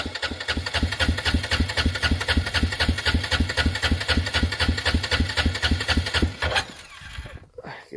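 An Arctic Cat 366 engine runs with a steady, even chugging pulse close by, then cuts out and falls quiet near the end.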